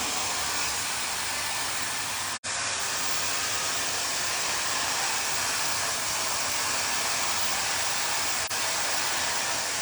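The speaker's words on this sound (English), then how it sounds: "start with the diffuser and just start naturally drying the hair on a medium heat, maximum speed" A hair dryer fitted with a diffuser runs on medium heat at maximum speed while drying a man's freshly cut hair, giving a loud, steady airy roar with one brief cut-out partway through.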